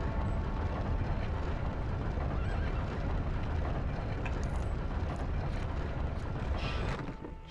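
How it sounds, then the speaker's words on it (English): A horse in the Lego Indiana Jones video game neighs and its hooves clatter over a loud, busy game soundtrack that fills the whole clip and drops away at the end. "That's very satisfying to just leap off of the horse."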